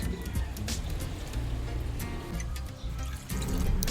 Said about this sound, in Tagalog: Maglagay tayo ng konting water.